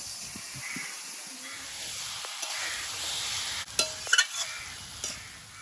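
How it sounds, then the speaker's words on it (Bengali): Chicken pieces with onion and bay leaves fry in a pan, a steady hissing sizzle under stirring, with a few sharp scrapes and clinks of the utensil near the end. "চিকেনটা দিয়ে নেড়ে ছেড়ে নিয়েছি"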